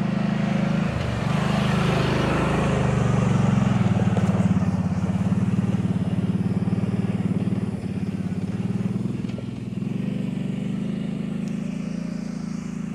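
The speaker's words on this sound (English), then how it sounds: "Cop on an ATV." Police ATV engine on an off-road trail, a steady low motor drone that stays loud and close throughout, swelling slightly as it moves past.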